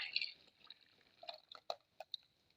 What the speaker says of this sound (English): So I'll just pour in my palm kernel oil.